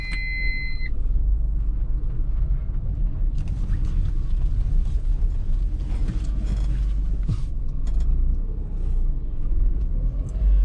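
A car swings through a turn with the steering wheel turned to full lock on a road; a steady, close engine rumble runs throughout, with faint mechanical creaks and no talking.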